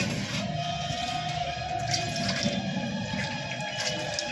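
Water gurgles and drains steadily from a bowl, a soft continuous trickle with faint ringing tones behind it, quiet and close.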